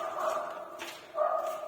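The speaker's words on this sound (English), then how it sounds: "That's one of my dogs." A dog barks twice near an abandoned coastal military compound, two moderate woofs about a second apart that echo faintly in an enclosed dark space.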